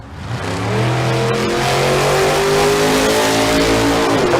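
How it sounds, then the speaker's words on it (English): A pickup truck's engine, not a standard four-cylinder, roars loudly at full throttle at Famoso Dragstrip, its pitch climbing steadily as it accelerates hard in a bracket race. "Here comes the pickup truck. Doesn't sound like it has the standard 4-banger in it."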